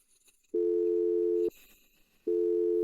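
A telephone call goes unanswered, with a loud steady electronic ringback tone sounding in two long pulses about a second each, separated by a short gap of faint noise.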